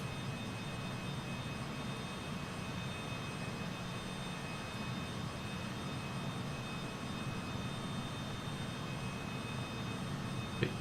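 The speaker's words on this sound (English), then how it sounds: "Plane is still taking off." A Working Title CJ4 business jet taking off in a flight simulator, a steady broadband jet engine roar with faint tonal whine, continuous and even throughout, no voices.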